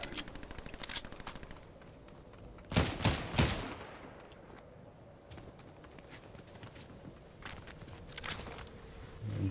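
Gunfire in a first-person shooter game: scattered sharp shots crackle throughout, with a denser cluster of loud bursts in the middle, set against steady background game noise.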